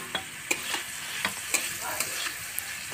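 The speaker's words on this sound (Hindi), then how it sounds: "अब इसको अच्छी तरह फ्राई करेंगे।" Onions with salt, chili flakes, cumin and coriander frying in a kadai, a constant close sizzle broken by repeated scraping knocks of a spoon stirring the pan.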